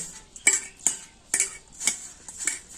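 A spoon stirs dry chili, turmeric and fennel powder together in a metal pan, with sharp clinks against the pan in a steady rhythm of about six scrapes and taps, close and clear.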